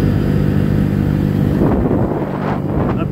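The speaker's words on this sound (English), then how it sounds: "motorcycle running" A Honda Grom motorcycle engine drones steadily at close range while riding, its low rumble mixed with rushing wind noise throughout, without any speech.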